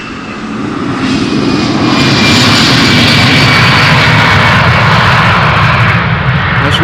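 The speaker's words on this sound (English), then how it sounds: "an EasyJet Airbus taking off is what you're hearing" An EasyJet Airbus jet takes off at Amsterdam Schiphol Airport, its engines building to a loud, sustained roar that swells and holds across the clip.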